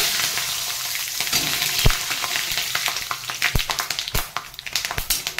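Bay leaf, mustard seeds, cardamom and nigella seeds fry in hot oil, a steady sizzle broken by sharp popping crackles that grow more frequent toward the end, with no talk.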